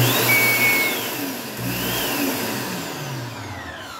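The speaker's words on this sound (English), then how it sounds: "Got a dog grooming dryer here." A dog grooming dryer inside an 8-foot dog grooming trailer runs with a loud, steady motor whine and airflow roar. A sustained hum holds throughout and dips slightly midway.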